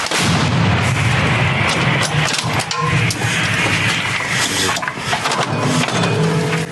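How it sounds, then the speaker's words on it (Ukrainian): A heavy artillery gun fires a single shell, the blast booming loud and close, its roar filling the scene with dense rumbling noise that lingers for several seconds. "По готовності один снаряд вогонь."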